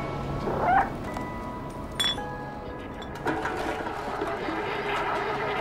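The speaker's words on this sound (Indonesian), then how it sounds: "Lah itu tadi gua ada kucing." A cat meows in the video game Stray, a short mewing call near the start followed by clinks and a steady background ambience with a rail-like hum.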